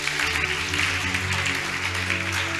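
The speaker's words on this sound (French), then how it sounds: "Acclame pour l'église." Church congregation applauding steadily and loudly over a sustained musical drone, a continuous wash of clapping with no pauses.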